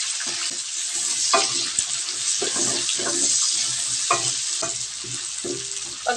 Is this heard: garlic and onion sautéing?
yes